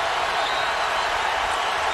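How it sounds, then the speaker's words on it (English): A partisan Kentucky Wildcats crowd roars in a packed Atlanta basketball arena during an Elite Eight game against Baylor, a loud, dense, continuous wash of cheering and applause. "Turnovers piling up and igniting this partisan Wildcats crowd here in Atlanta"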